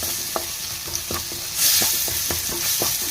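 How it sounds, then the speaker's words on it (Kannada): Masala with chopped chili sizzles in a pan while a spoon stirs it, giving a continuous frying hiss broken by several sharp scraping knocks of the utensil against the pan, close up with no talk. "ಈ ರೀತಿ ಎಲ್ಲ ಮಸಾಲೆ ಹತ್ತೋಂಗ ಫ್ರೈ ಇಡೋಣ್ರಿ"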